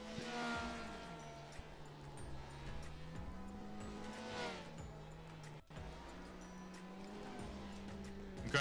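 GT3 race cars doing donuts in the iRacing sim after the Daytona 24 Hours: engine notes rise and fall in repeated sweeps, with tire squeal throughout and a short clunk partway.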